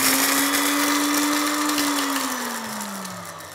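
An electric blender grinds seeds, black peppercorns and salt into a paste, a loud steady motor whine with rattling grit that dips slightly in pitch toward the end, heard alone.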